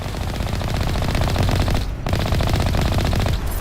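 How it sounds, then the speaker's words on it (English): Sustained automatic gunfire from enemies firing at long range in the video game Mass Effect, dense rapid bursts running nearly continuously with a brief pause near the middle, loud and steady. "Dude, they're long range shooting down there."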